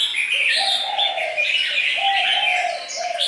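Red-whiskered bulbuls in a house full of tame birds sing a busy, overlapping chorus of bright chirps and warbling phrases, loud and close, with no voices present.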